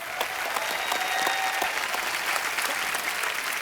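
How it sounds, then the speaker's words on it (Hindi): Studio audience at a taping of The Kapil Sharma Show applauds the cast, a dense, steady roar of many hands clapping at once that holds at an even level throughout, with no talking over it. "फ्रेंडशिप अनलिमिटेड की पूरी कास्ट के लिए एक बार जोरदार तालियां हो जाए।"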